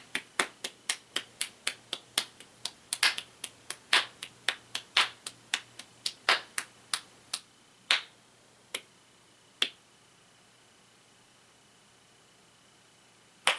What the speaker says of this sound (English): Let's all give a warm round of applause for Stephen.